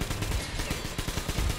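Machine-gun fire in the video game Metro Exodus, a fast, even rhythm of loud, close shots rattling continuously without pause.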